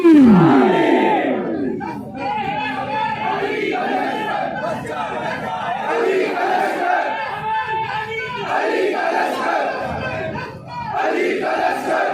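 A large gathering at a religious sermon roars back the Nara-e-Takbir, Nara-e-Risalat and Nara-e-Haidari slogans, a loud sustained mass of shouting voices that swells, dips briefly and surges again.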